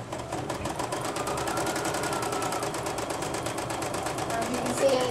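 A sewing machine stitches the inner part of an appliqué flower with a steady, continuous, moderately quiet mechanical whir and a fine rapid needle rhythm throughout.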